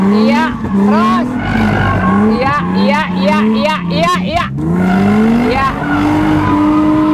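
Car drifting during practice, tires squealing in repeated rising and falling screeches over a loud engine, with people talking throughout.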